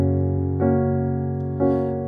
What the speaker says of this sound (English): the first progression that is played is a 1 to a 4, or 1 to a 4 over 1